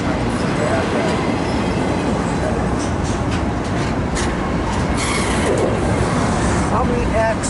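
A long freight train rolls past during a snowstorm, a steady loud rumble with rhythmic clatter of cars and wheels; voices are faintly heard over it.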